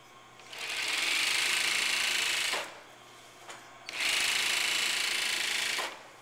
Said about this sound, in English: let's go to the overlock machine. Step 4, overlocking the center back yoke seam.